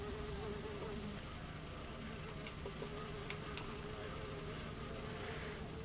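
Bees in the game Sudeki buzz as a dense, steady drone throughout, faint and continuous beneath the game's ambient noise.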